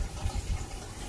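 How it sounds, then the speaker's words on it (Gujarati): Water being poured off soaked rice in a home kitchen, a short close splashing gurgle with low rumbling bursts. "ભાત પલાળ્યા તેનું પાણી કાઢે છે"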